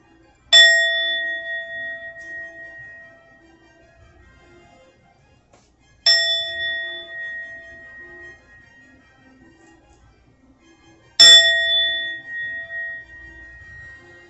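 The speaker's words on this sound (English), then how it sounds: "I'm going to ring the bell." A bell is rung three times at even intervals, each strike a bright, clear metallic ding that rings out and fades slowly into near silence before the next.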